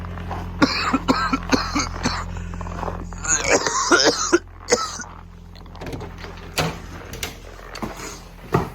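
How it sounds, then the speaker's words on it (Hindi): A man coughing repeatedly in bursts and clearing his throat indoors, close and loud, with short pauses between fits and some rustling and thumping movement noise in between. "थोड़ा खांसी सी हो रही थी"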